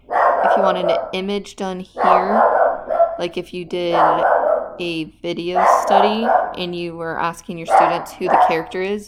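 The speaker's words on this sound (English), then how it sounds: "sorry for my dog" A pet dog barks indoors in short, intermittent bursts beneath continuous close talking.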